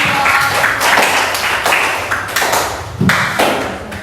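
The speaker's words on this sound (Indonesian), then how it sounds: "beri tepuk tangan untuk kelompok" A classroom group applauds after a student presentation: a short burst of scattered hand claps and taps, fairly close, with a few louder claps near the end.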